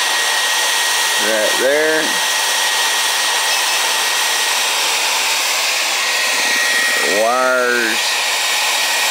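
A hair dryer roars steadily and close throughout, with someone speaking briefly over it twice.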